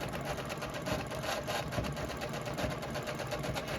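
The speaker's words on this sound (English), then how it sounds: "I'm using the open toe foot so that I could really see where my needle is dropping and I could see my decorative stitch" A JUKI sewing machine running steadily as it sews a decorative stitch on a quilted placemat, a fast even mechanical whir with rapid needle ticks, close and continuous.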